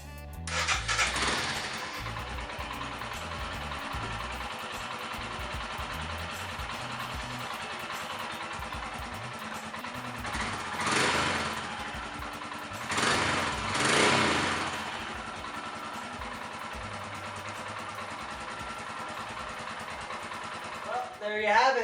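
A Royal Enfield Himalayan motorcycle engine starts and settles into a steady idle, a continuous close mechanical rumble with a few brief revs swelling partway through and no voices heard.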